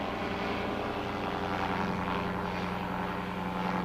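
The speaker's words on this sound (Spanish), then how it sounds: "Utilizando un pequeño motor delta con forma de cóndor, nos elevamos sobre Sacsayhuaman para mirarlo desde el aire" Small condor-shaped motorized hang glider flying over Sacsayhuaman, its propeller engine droning steadily and loudly throughout, heard from on board with no talking.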